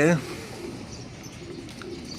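A racing pigeon gives a short, low coo at the start, followed by faint bird chirps and quiet background voices.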